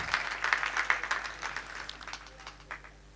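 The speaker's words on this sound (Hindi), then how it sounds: "एक बार जोरदार तालियों से स्वागत कीजिए" An audience at a Hindi poetry gathering claps in a short burst of dense applause that thins and fades over about three seconds.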